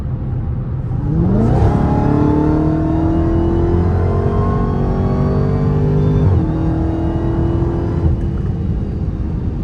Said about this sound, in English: the only way it'll scream at you is if you push the pedal all the way down